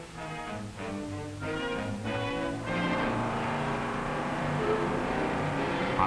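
A 1958 race car engine pulls out of a garage, its harmonic exhaust note rising in stepped revs then settling into a steady, loud drone as it moves off.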